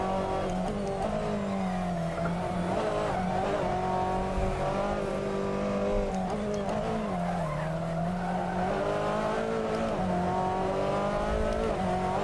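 A TCR touring car at Knockhill in a racing game, tyre squeal and skidding from a locking right rear under braking over a steady, loud engine drone, with pitch dips as the car slows.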